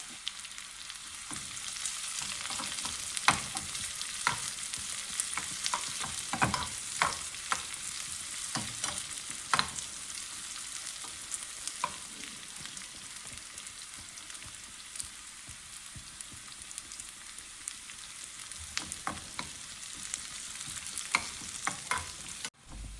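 Chopped shallots, curry leaves and cut dried red chillies frying in hot oil for a buttermilk curry tempering, a close, continuous crackling sizzle dotted with sharp pops and stirring clicks, steady throughout without talk.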